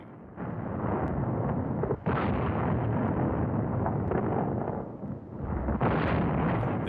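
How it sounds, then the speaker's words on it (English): Mountain artillery fire on a wartime front, a dense, continuous roar of distant booming reports that swell and briefly dip, heavy and rumbling with no voices. "Mountain artillery."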